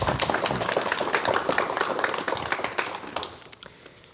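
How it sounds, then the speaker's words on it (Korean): A studio audience at a 1986 Korean television talk show bursts into steady applause that fills the room, then quickly fades out at the end. "여러분 박수로 맞이해 주십시오"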